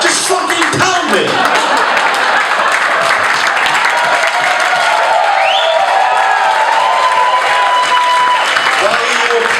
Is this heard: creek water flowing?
no